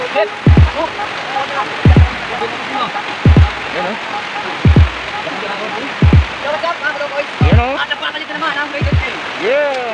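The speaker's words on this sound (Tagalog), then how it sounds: "Nabutan kami ng ulan, malakas na ulan." Heavy rain pours down during a group motorcycle ride in Curuan, Zamboanga City, a dense steady hiss broken by repeated loud, sharp knocks, with voices talking over it.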